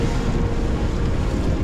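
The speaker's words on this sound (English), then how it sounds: "Oh, it's windy." Loud, blustery wind roars across the microphone on a sailboat at sea north of New Zealand, a constant low rumble with gusty buffeting and no voices.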